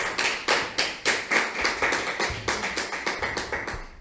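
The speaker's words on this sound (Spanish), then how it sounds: "Why you clap your hands?" Audience clapping hands in unison at a church sermon, steady rhythmic claps about twice per second, fairly close and even, with no talking over it.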